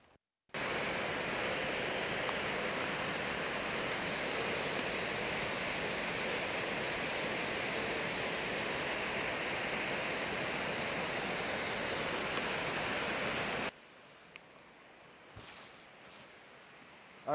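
Wisendanger Falls, a waterfall above Multnomah, pours in a steady, dense hiss and roar that stops abruptly near the end, leaving quiet background with a few faint knocks.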